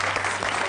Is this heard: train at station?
no